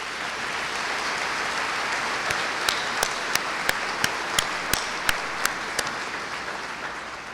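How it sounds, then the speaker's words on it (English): An audience at a 2019 fall commencement ceremony applauds in a broad, even wash of clapping, with a few loud, evenly spaced claps from someone nearby standing out midway. "would you join me in applause to thank all these folks?"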